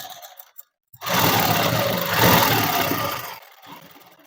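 A sewing machine stitches dress sleeves in one continuous run of steady, close-up whirring that starts abruptly after a short pause, then fades to a few clicks, with no talk.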